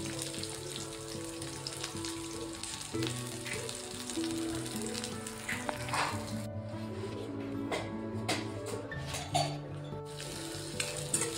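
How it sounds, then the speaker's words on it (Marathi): Steady sizzling of sliced onion frying in a spoonful of hot oil for misal pav, with occasional light scraping and clinks of stirring. "आपल्याला 1 चमचा तेल टाकून घ्यायचं आहे, आणि त्यामध्ये आपल्याला हा स्लाइस केलेला कांदा टाकायचा आहे"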